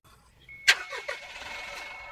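A 2016–2017 Mitsubishi Pajero Sport Dakar 4x2 diesel with automatic transmission cranks briefly and fires, then settles into a steady, close idle.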